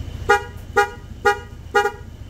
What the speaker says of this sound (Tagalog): So ito pong Boss Strider horn is water and dust resistant na busina